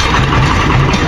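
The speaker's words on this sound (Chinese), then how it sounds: "这种单缸发动机" A single-cylinder engine on a modified walking tractor runs steadily up close, giving a continuous loud chugging drone with a low, even pulse and no talking.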